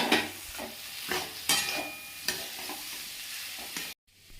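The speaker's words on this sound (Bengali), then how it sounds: "এরপরে ভেজে রাখা আলু আর সয়াবিনটা দিয়ে ভালো করে একটু কষিয়ে নেব" Fried potatoes and soybean chunks sautéed in spice paste in a pan, sizzling steadily while a spatula scrapes and stirs in repeated strokes, close and clear, ending in a sudden brief silence; no one speaks.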